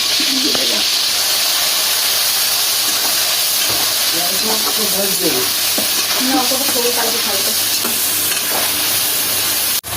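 Shrimp and turmeric fry in hot oil in a pan, giving a loud, constant sizzle and hiss for the whole stretch while being stirred, with faint voices underneath.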